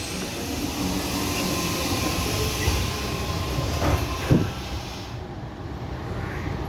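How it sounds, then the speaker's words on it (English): An old Sydney Tangara suburban train, about 40 years old, runs along the line with a steady, close, loud rumble and rail noise from inside the carriage, with a few brief clanks. "this train here is called we call these the old Tangaras. It's about 40 years old."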